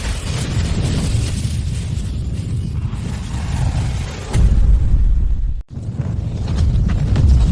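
A nuclear weapon blast in a dubbed fantasy drama erupts as a deep, heavy boom after a rumbling buildup, cutting to a sudden silent gap before the low roar returns and lingers.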